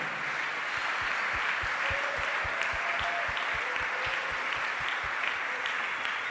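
A church congregation applauds during worship, a steady dense wash of clapping under a regular low rhythmic thump of music, continuous and fairly loud throughout.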